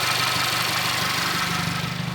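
A VW Jetta GLI MK6 with the 2.0 turbo engine runs steadily, a continuous mid-pitched engine drone with a faint rhythmic pulse, heard close and alone.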